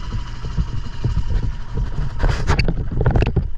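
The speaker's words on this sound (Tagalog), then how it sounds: "Yan, dalawang bangka, isang kulay blue, yung isang bangka" Two boats, one blue, out at sea off a Palawan island, give a continuous close engine and hull rumble mixed with wind noise that rises and thickens toward the end.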